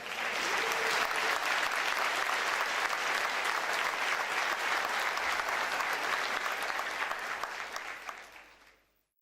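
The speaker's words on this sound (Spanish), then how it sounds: "Dale un fuerte aplauso al Señor" Loud, sustained applause from a large crowd at a pastors' church conference, steady clapping that fills the space for several seconds before tapering off at the end.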